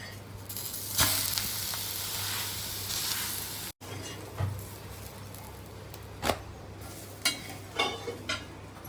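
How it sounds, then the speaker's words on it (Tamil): A pesarattu dosa fries on a pan after being flipped, a soft steady sizzle close by, broken by a few light clicks and spatula taps. "ஒரு பக்கம் வெந்துருச்சு, இன்னொரு பக்கம் திருப்பி போட்டுக்கலாம்."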